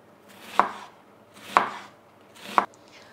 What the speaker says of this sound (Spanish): Las cebollas las pelamos y seguido las vamos a cortar en juliana